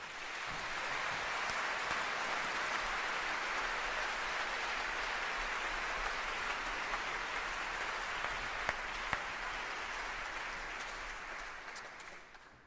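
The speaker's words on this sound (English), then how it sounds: "let's give them a round of applause" A large audience applauds young musicians at a speech event, a dense, steady wash of clapping sustained for over twelve seconds without voices over it.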